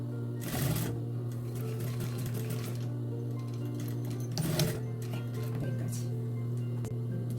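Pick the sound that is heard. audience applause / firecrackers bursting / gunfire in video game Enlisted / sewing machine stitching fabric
sewing machine stitching fabric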